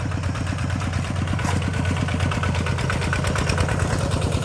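An old ET11 walking tractor engine runs steadily in a field of hard soil, its rapid even chugging pulses close and loud throughout, with no pause or change in pace.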